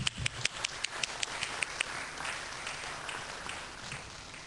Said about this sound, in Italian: con un grande applauso